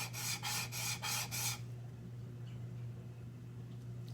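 A #4 plane iron is rubbed back and forth on an inexpensive diamond plate, giving five quick raspy strokes in steady rhythm before fading into quiet background hum.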